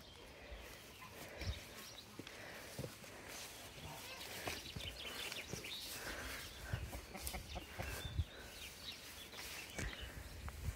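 Old Bourbonnais hens and a French champion rooster clucking in a breeding pen, steady busy farmyard chatter of fowl at moderate distance with scattered sharper calls throughout.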